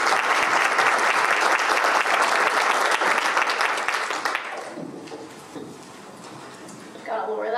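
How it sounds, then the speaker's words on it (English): Audience applause fills a forum hall, a dense, loud burst of clapping lasting about four seconds before it fades, followed by quieter room sounds and a person beginning to speak near the end. "Let's give her a round of applause for her service and leadership."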